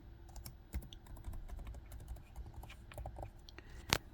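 Fingers type a password on the keyboard of an ASUS ExpertBook B1400C laptop, a close, irregular run of light key clicks with one sharper press near the end and no voice.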